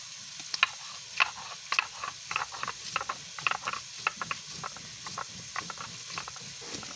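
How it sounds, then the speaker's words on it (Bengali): Dried red chillies, about ten, being ground into paste on a grinding stone, a steady run of gritty scraping strokes with small crackling clicks, close by and fairly quiet. "আমি দশটার মতো শুকনো লঙ্কা নিয়েছি এগুলোকে এখন আমি ভালো করে বেটে নিচ্ছি"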